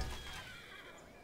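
A horse unit in Civilization V lets out a brief neigh that fades quickly, loud at the start and then trailing off with no talk over it.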